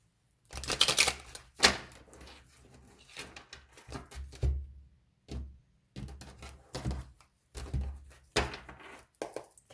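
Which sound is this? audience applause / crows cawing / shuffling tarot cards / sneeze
shuffling tarot cards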